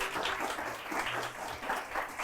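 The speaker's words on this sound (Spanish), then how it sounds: "un fuerte aplauso a nuestro invitado" A short burst of crowd applause for a guest at a journalism talk, steady clapping from many hands at moderate loudness with no voices.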